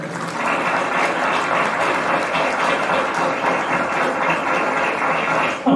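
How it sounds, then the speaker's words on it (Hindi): Loud, continuous applause from an audience at a school play for engineer's day in Kasimpur, Aligarh, a thick steady roar of many hands clapping at once, with no voices over it. "बजाइए जोरदार तालियां"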